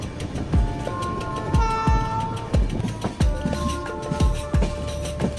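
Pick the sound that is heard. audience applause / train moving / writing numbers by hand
train moving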